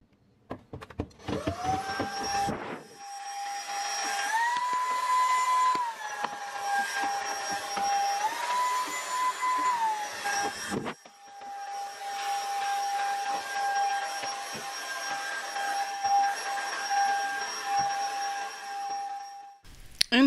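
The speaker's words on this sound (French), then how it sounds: "Une fois que j'ai ramassé à l'aspirateur toutes les miettes, tout ce qui traînait" A vacuum cleaner sucks up crumbs inside a fridge during cleaning, a steady whine with shifting pitch as the nozzle moves, briefly cutting out midway before running on continuously.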